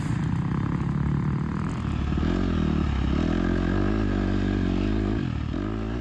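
Dirt bike plowing through snow, the engine droning loudly and close with shifting revs and some scraping clatter, steady throughout.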